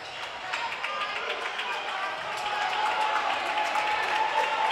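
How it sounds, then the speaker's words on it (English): The PSB Elite fan section cheers and roars steadily at a 16U Nike Memorial Day Classic championship basketball game against the St. Louis Eagles, a dense continuous crowd noise under a commentator's voice. "The PSB crowd to the left urging them on"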